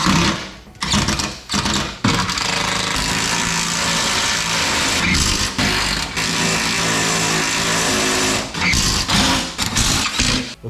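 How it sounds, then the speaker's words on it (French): An Audi S3 8V Cabrio with the CJXC 301 hp engine runs during maintenance, a loud, busy mechanical hum broken by a few brief dips and surges, heard close with no talk. "on a fait tourner le moteur"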